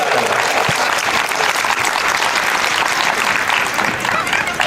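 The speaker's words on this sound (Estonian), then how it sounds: "Teeme suure aplausi veel Paide tantsistuudele." Loud, steady applause and clapping from a crowd at a women's day football festival, cheering the Paide dance studio, dense and unbroken throughout.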